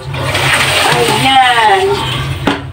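Water is poured out in a steady splashing rush while fish are cleaned for making bagoong isda. It is loud and close, ends with a short knock, and has no talking over it.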